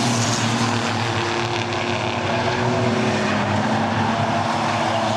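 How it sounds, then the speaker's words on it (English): Race cars roar around Lee speedway during a heat, a steady loud engine drone with layered motor tones and no pause throughout. "The Stratford racer, the number 7 machine, Garrett Wexford"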